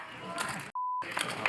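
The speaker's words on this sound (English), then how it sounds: "See what's beeping on his body right now." A single steady electronic beep sounds for about a quarter second, cutting through a brief gap in busy background noise.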